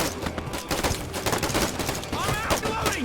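Rapid bursts of rifle fire crackle in a Vietnam War shooter game, dense overlapping shots fired in quick runs, with someone talking over the gunfire.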